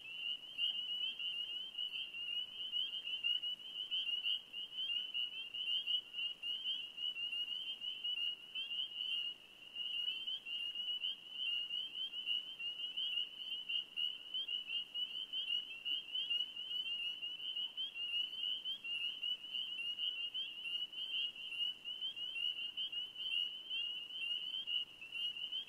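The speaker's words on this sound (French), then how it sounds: "Donc les grenouilles qui se réveillent et puis qui font autour des lacs" Tree frogs chorus around lakes in spring, a dense, continuous high trill that holds steady and envelops the scene, fairly faint, with no voices.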